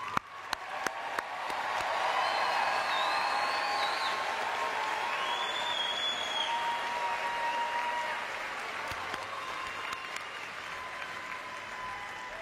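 A large graduation audience applauds the 2025 graduates, a sustained dense roar of clapping with scattered whoops and cheers that holds for about ten seconds before easing off slightly.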